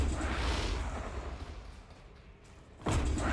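Fleets bombarding a planet in the space strategy game Distant Worlds 2, a sustained rumbling barrage of booms that dips mid-way and then surges back with a loud fresh blast near the end, with no talking.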